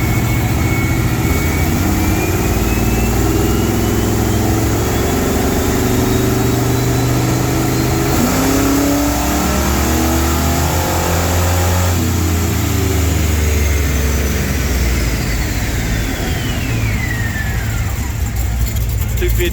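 An 838-horsepower GM car revs hard on a dyno, its engine note climbing and falling in long sweeps over a heavy low rumble, with voices talking around it.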